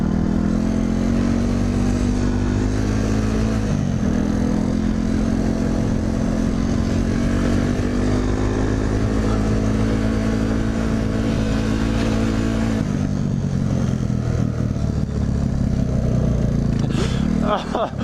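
A dirt bike engine revs loud and close throughout, its steady mid-pitched drone shifting pitch around four seconds and dropping into a rougher tone near thirteen seconds, with a person talking over it.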